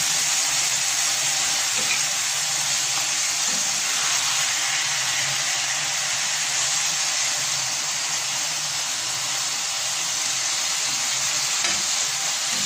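Chicken fries with onions on a hot tawa, a steady loud sizzle and hiss of oil that runs without a break, close up and with no voices.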